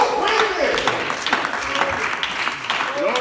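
Church congregation applauding loudly during a Spanish-language sermon, a steady dense wash of clapping with a voice rising over it.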